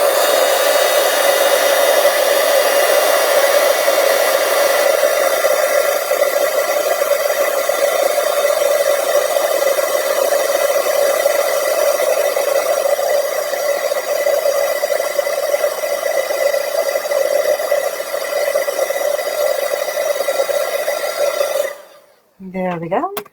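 A heat embossing tool blows hot air for about twenty-two seconds in one loud, steady whirring hiss with a constant motor tone, then cuts off abruptly near the end.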